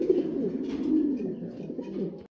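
Pigeons of big-size King Lahori breed coo in a low, continuous rolling murmur, close and fairly loud, with overlapping throaty calls and no talking.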